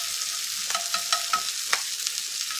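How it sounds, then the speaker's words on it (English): Venison deer heart steaks searing in a very hot pan give a steady broadband sizzle, with a few brief crackles and pops rising above it, close and continuous with no talking. "I'm going to get this heat pretty high here because we're going to sear these"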